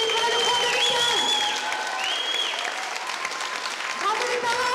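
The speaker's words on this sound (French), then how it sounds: "Vous pouvez applaudir très fort le groupe de 16 finalistes de l'école de France 2015." Audience applause and cheering greet the 16 finalists of the Elite Model Look France 2015 contest, a sustained wash of clapping from a large crowd with voices mixed in throughout.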